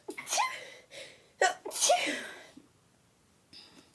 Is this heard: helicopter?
no